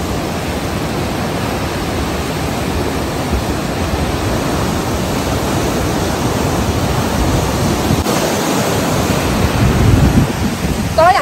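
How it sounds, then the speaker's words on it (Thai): Huka Falls in New Zealand roars with steady, dense rushing water, a loud broadband wash that holds constant throughout with no voices. "ก็อย่างที่เห็นนะคะว่าน้ำตกเนี่ยมันไหลมาจาก ภูเขาน้ำแข็งนะคะแล้วก็กำลังไหลลงไปทางนี้"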